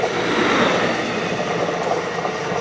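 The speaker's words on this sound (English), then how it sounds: "Once the freight comes through." A freight train rolls past in Simi Valley, a steady broad rumble of wheels and cars with faint squeal, continuous and fairly close throughout.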